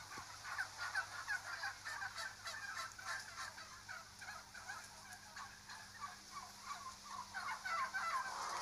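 Mass-produced farm turkeys gobble repeatedly in a flock, many overlapping calls rising and falling at moderate volume over a low steady hum, with no talk.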